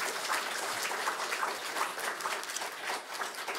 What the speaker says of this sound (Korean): 힘차게 박수 한번 주세요.